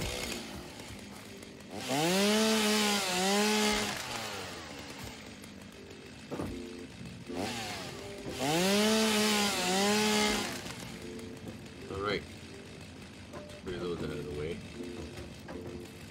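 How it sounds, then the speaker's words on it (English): A chainsaw in the video game Satisfactory revs up in two long, loud bursts, each roughly two seconds, with a quieter idling drone and short revs between them. "chainsaw."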